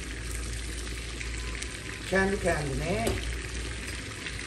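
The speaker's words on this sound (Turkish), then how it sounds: "Evet, yağ çatırdamaya başladı." Hot oil crackling and sizzling as it is poured over a thick homemade lentil soup made with bone broth, a steady frying hiss throughout with a brief louder burst of spattering midway and a few faint spoken words.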